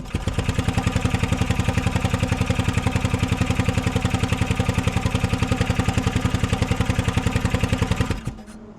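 A 1970 Piaggio Ape MP500 three-wheeler engine cranking without catching, a loud, close, fast even chug of compression strokes lasting about eight seconds before cutting off.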